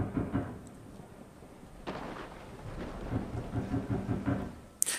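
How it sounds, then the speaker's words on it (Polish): Rolling thunder with steady rain in the horror video game Resident Evil 7, a loud crack near the two-second mark and another sharp burst at the end over continuous downpour. "Jakie pioruny?"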